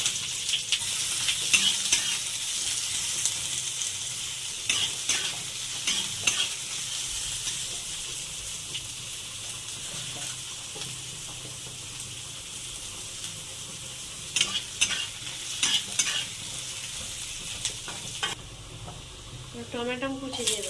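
Chopped onion and whole-spice tempering fry in hot oil, a steady sizzle running throughout with intermittent scraping stir strokes, close and moderately loud, while the fish and okra curries are cooked.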